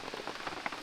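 Rain patters steadily on the fabric of a wedge-style tent, a soft, close, even drumming with no talk.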